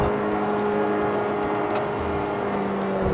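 A car's engine in manual M mode holds a steady, high-revving drone without shifting, a continuous loud hum with a faint whine layered over it.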